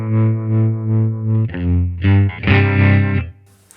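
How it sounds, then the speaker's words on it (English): Electric guitar played through a Line 6 Helix 60s bias tremolo effect, sustained notes and chords pulsing in a slow, regular volume throb, loud and close, with a brief noisy burst at the end. "It's typically like a classic tremolo."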